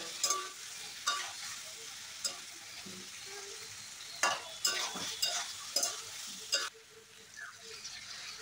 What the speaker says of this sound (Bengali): আরও কিছুক্ষণ ভালো করে কষিয়ে দিয়ে দেব